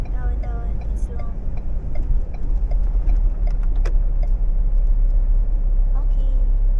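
A car drives at low speed and turns into a caravan parking area, with a steady low engine and road rumble and an occasional ticking indicator, while people talk inside.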